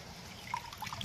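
Water trickles briefly into a container, a soft, close dribble that ends in a louder splash.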